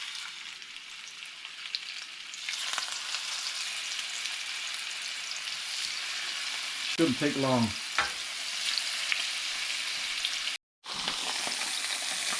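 Catfish fries in a hot oiled pan, giving a steady crackling sizzle heard close up, with a brief burst of spattering and scraping midway and a short quiet gap near the end; a voice speaks briefly.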